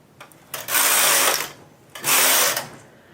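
A domestic knitting machine as a needle is pushed back out of work and a stitch moves to the next loop, giving two sustained mechanical whirring, ratcheting passes, each roughly half a second to a second long, near and loud with short clicks between.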